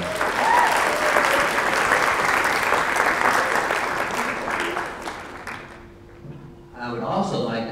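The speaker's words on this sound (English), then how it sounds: "Let's give her a round of applause." A lecture audience gives a round of applause, sustained dense clapping for about five seconds that fades away, followed by a brief voice speaking.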